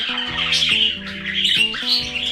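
Pet budgie squawking and chirping in harsh, buzzy bursts, a few rapid calls close up and loud with brief gaps between them.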